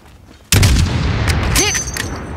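A single sharp sniper rifle shot in Call of Duty Modern Warfare cracks loudly after a brief quiet, followed by a long rolling echo and faint game ambience; no talk over it.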